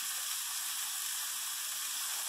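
Onions and burger patties sizzle on a hot griddle, a steady, dense hiss that stays even and loud throughout with no talking.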